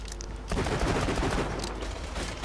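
Rapid gunfire from Borderlands 2 breaks out after a brief pause and continues as a loud, sustained burst of shots.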